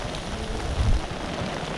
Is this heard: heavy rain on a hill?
yes